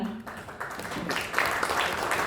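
Applause from an audience at a Korean press and culture award ceremony, a soft, fairly distant patter of clapping that swells slightly toward the end, with faint talk mixed in.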